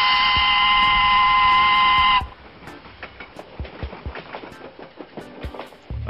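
A train in the Paper Train video game gives a loud sustained whistle-like tone that cuts off after two seconds, followed by rhythmic clicking and clacking of the cars rolling along the track.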